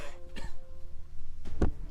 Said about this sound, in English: Who was that coughing over there?